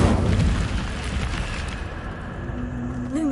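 An Incendio fire spell cast in Hogwarts Legacy, a loud burst of roaring flame that opens strongly and then sustains as a rumbling whoosh, tailing off slightly with a rising magical tone near the end.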